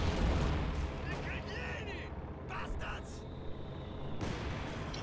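Grenade blast and rolling gunfire from the World War II strategy game Company of Heroes 2, heavy booming explosions and dense crackling shots filling the mix, loud and continuous with brief sharper bursts.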